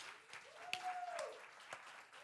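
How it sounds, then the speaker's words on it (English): An audience at a marketing conference keynote in Dubai claps for the speaker, a faint, distant patter of many hands with a steady background tone running beneath. "put your hands together in a massive round of applause for Dario Kulic."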